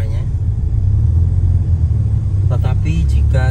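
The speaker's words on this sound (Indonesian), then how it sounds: "Mobil ini knalpotnya racing ya, jadi lumayan ngebas suaranya." A 2000 Honda Civic Ferio with manual gearbox and racing exhaust rumbles with a deep, steady bass drone from inside the car while someone talks over it near the end.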